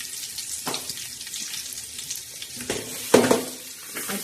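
Curry leaves and ground masala sizzle in a chicken pulao pot, faint crackling frying broken by a few sharp spits and stirring scrapes.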